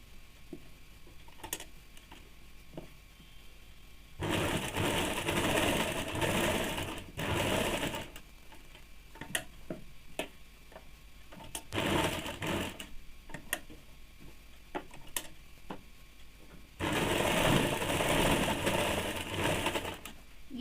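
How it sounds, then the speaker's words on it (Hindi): An overlock sewing machine stitches woollen fabric for a baby frock in three fast whirring runs of a few seconds each, separated by quiet pauses with small clicks and handling sounds. "इसको ओवरलॉक करके सिल लेंगे"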